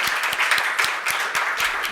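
An audience at a talk on intersex bodily autonomy and healthcare claps together in a thick, continuous burst of applause, with a few heavier individual claps standing out in an even beat.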